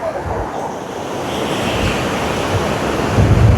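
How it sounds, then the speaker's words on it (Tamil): Ocean waves washing onto the beach at Mirissa, a loud continuous roar of surf mixed with wind buffeting the microphone, swelling slightly toward the end. "எப்படி நான் சொன்ன மாதிரி 2 அலையும் வந்து இந்த இடத்துல தொடுகுதா."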